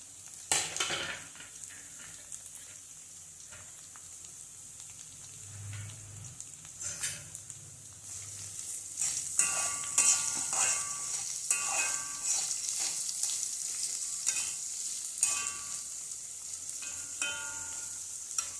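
Chopped onions sizzle and fray in a pan, with a spoon scraping and clinking against the metal now and then; no one speaks.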